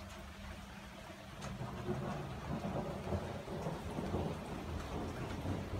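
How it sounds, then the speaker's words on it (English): Steady heavy rain pours down with low rumbles of thunder rolling underneath, a dense continuous wash of sound that swells slightly louder partway through. "We need this rain."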